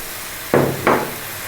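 Pork ribs for sticky Chinese-style ribs land in a hot pan as two quick, close, heavy thumps about a third of a second apart, each flaring into a brief sizzle before settling back to a quiet background.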